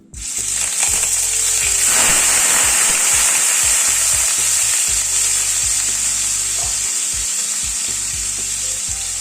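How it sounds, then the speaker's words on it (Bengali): Paneer sizzles and crackles in hot white oil in a wok, a loud, steady frying hiss throughout with occasional stirring clinks and scrapes. "প্রথমে পনিরটাকে একটু ভেজে নেব।"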